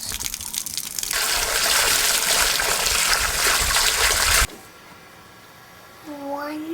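Water gushes loudly from a tap into rabbits' water containers on a homestead for about four seconds, then stops abruptly, leaving quiet room tone and a brief rising squeak at the end.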